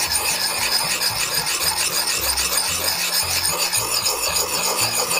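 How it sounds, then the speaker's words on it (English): A coarse sharpening stone scrapes in steady circular strokes across a tomahawk blade, a close continuous gritty rasp that rises and falls with each pass, no talking. "circular movements with the stone, and I do the coarse stone first"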